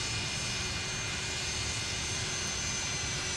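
MD-80 JT8 jet engines wind down in Microsoft Flight Simulator with a steady, even roar and faint whine that holds throughout at a moderate, distant level.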